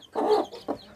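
Three-day-old chicken chicks peeping in a few short bursts, one longer call followed by two brief ones, close and fairly soft, with no talking over them.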